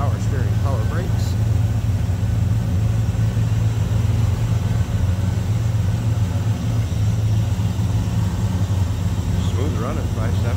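A 1979 Chevrolet C20 Scottsdale Camper Special's 5.7-liter 350 V8 idling smoothly, a steady low rumble holding even throughout with no revving, close and loud.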